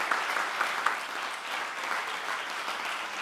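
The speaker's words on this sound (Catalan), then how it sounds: "Jo faig un aplaudiment per la nostra cultura." Steady applause from an audience at a traditional roots-music heritage event in Muro, a dense even patter of clapping throughout with no talk.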